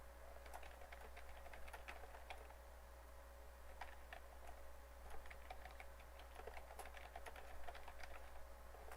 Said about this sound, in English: It's really hard to type when I can't see what I'm typing.